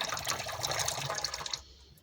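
Hot water runs from a tap in a motorhome, a close steady splashing stream that stops abruptly near the end.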